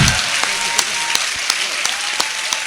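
Audience applause at a Hindi poetry recitation, loud close clapping with sharp individual claps standing out from a dense steady patter, continuing throughout.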